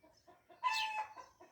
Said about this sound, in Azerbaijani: Yenə toyuqların səsi düşdü.